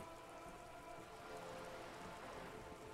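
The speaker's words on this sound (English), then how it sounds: "All around you, rain keeps falling down. On the wooden boards she's standing on and on the water around you." Steady rain falling on wooden boards and the surrounding water in the Disco Elysium video game, a faint, continuous patter with no other sounds.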